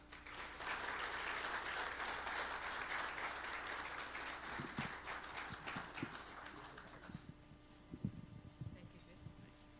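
An audience at a fleet executive summit applauds to welcome a speaker, dense clapping that fades after several seconds into a few scattered claps and then a voice speaking.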